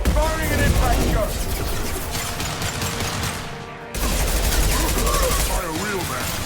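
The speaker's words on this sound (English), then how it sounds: "Firing an impact shot!" Impact shot fired in the sci-fi shooter Mass Effect 2 amid dense, loud combat gunfire, rapid bursts and cracks layered over rumbling battle noise, with a brief drop in level before the firing resumes.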